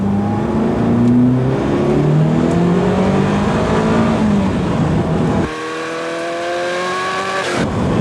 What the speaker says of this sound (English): We're just going to do a lap now of the Ferrano circuit.